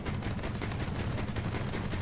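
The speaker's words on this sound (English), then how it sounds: "and you got a machine gun." Rapid automatic fire from a vehicle-mounted machine gun in War Thunder, a dense, continuous rattle of shots that holds steady and loud for the whole two seconds with no talk.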